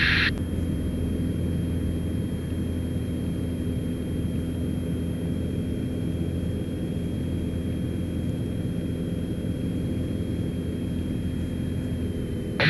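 A steady, droning engine of a DR42 light propeller plane in flight fills the cabin, constant and loud with a broad rumbling hiss throughout.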